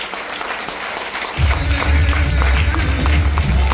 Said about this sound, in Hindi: सभी तालियों से स्वागत करेंगे कंपनी के सेकंड प्लेटिनम आदरणीय महेंद्र सिंह